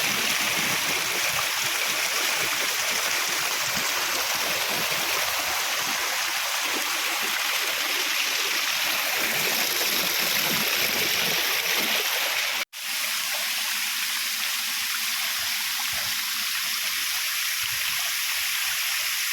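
Darbadi waterfall at Daringbadi, Kandhamal pours in a steady, loud broadband rush of falling water, continuous throughout with one abrupt momentary dropout partway through.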